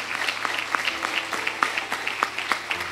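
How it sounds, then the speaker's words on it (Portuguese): Church congregation applauding at a sermon, a steady patter of many hands with sharper individual claps popping out, fairly close and continuous without speech. "Aplaude ele por isso, mas aplaude mesmo."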